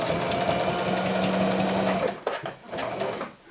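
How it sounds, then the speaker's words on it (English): A sewing machine stitching close to the edge of fabric wrist wraps runs in a steady, continuous whir for about two seconds, then stops and restarts in short bursts, close and clear with no talk. "What I'm doing is sewing as close to the edge as I can."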